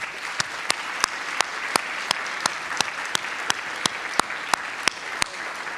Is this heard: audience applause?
yes